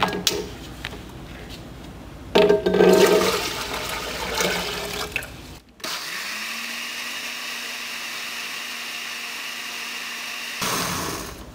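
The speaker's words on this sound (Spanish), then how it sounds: "Lo que vamos a hacer es licuarla con medio vaso con agua y la vamos a dejar licuarse por varios minutos." Kitchen blender whirring as it blends birdseed with half a glass of water, rising and falling for several seconds, then a steady motor drone that cuts off before a final brief burst.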